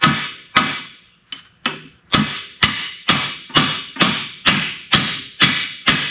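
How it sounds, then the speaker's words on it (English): Heavy hammer strikes on a rusted car steering part, about a dozen loud, sharp metallic blows in a steady rhythm with a brief quicker pair midway, each ringing out before the next. "let me grab a bigger hammer and we'll try that."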